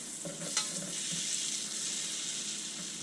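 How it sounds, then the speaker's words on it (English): Cheese melting in a buttered pan for homemade mac and cheese, being stirred. A faint, even sizzle holds steady with a soft scrape or two near the start, and no one speaks. "I'm going to start dropping cheese. I don't add the milk right away, and I'm just going to be stirring"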